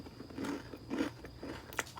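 Crunchy air-fried food is bitten and chewed up close, giving several soft crisp crunches in a quiet indoor setting.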